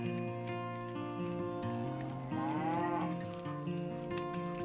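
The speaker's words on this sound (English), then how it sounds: "He had some cows he needed help separating" Cows on a ranch mooing in long, drawn-out bellows that overlap and shift in pitch, fairly close and continuous throughout, with no talking.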